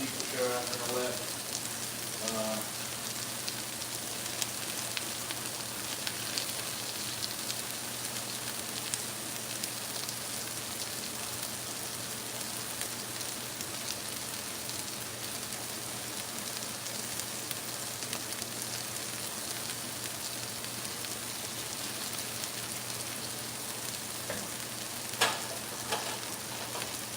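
Onions sizzle steadily in a hot pan for a hamburger steak and onions dish, a dense, even frying hiss that holds at constant loudness throughout, with a brief louder clatter near the end.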